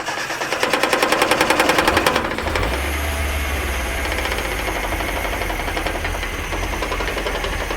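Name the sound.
1982 Datsun 720 4x4 engine running rough at idle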